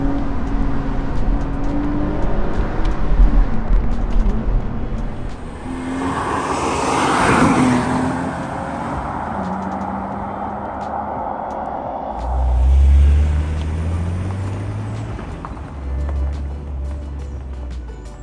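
BMW Z4 roadster driving fast along country B roads, its engine note rising and falling at close range, with a swell of acceleration midway and a deeper surge near the end.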